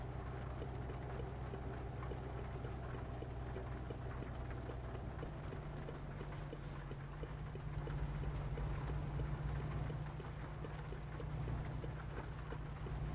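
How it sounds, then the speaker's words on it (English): Steady rain patter in Euro Truck Simulator 2, heard from inside a MAN TGX truck cab, with a low rumbling hum underneath, continuous and fairly even throughout, with a soft gust or swell near the middle. "The rain sound."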